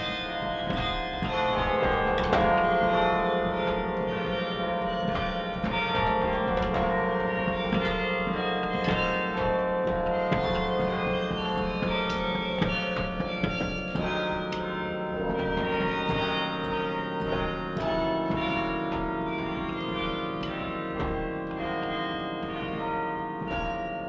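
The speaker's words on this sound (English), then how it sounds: "take two bells and you rapidly play them back and forth so that you create almost a continuous sound" Carillon bells ring in the Singing Tower at Bok Tower Gardens, with many bells rung in rapid alternation so the tones blur into a near-continuous, resonant chiming that carries on steadily.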